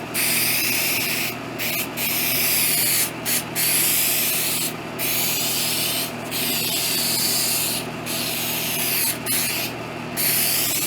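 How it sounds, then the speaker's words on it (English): Bursts of hissing 3M 77 spray adhesive, several long sprays separated by brief pauses, steady and close, with no talking. "And I'm gonna spray a generous coat."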